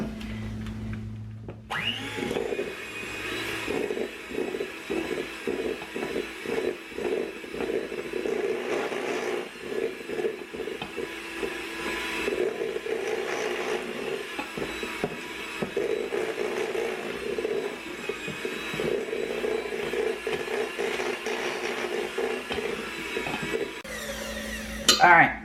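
An electric mixer beats cream cheese frosting for a pumpkin cake, a loud steady whir that runs for about twenty seconds before cutting off, with brief pauses and faint voice-like sounds in between.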